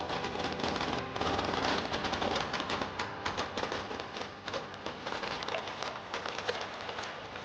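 Firecrackers set off for a boat blessing on the Mekong crackle and pop continuously in a dense, rapid string of small bangs, a steady loud rattle throughout.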